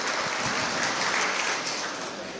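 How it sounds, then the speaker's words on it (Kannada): A crowd at an Ayurveda event in Mangaluru breaks into dense, sustained applause that fills the room evenly and loudly throughout. "ಜೋರಾದ ಚಪ್ಪಾಳೆ ನಿಮ್ಮ ಕಡೆಯಿಂದ ಈ ಸಂದರ್ಭದಲ್ಲಿ ಬರಲೇಬೇಕು"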